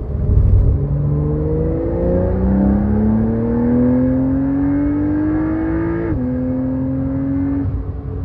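A Porsche engine revs up in long rising sweeps on a circuit at Porsche Leipzig, pitch climbing through the gears and dropping at a shift, loud and close without any voices.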